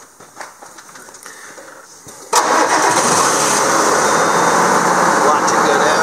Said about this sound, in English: All right, so let's fire this thing up.